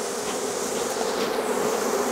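Honeybees at an apiary on Lesbos, a dense steady buzzing swarm, close and fairly loud, continuous with no voices.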